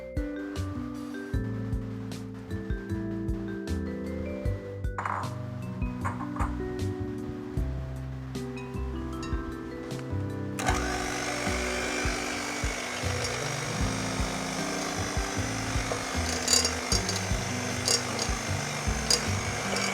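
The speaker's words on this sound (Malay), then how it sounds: "As usual kita kena pukul butter dulu" Butter being beaten for a mango butter cake batter, a steady rhythmic whirring and scraping that carries on throughout, turning louder and denser partway through, close by with no talk.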